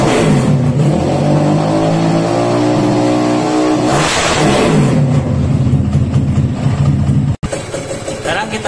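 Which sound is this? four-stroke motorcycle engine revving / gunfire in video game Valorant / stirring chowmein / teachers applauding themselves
four-stroke motorcycle engine revving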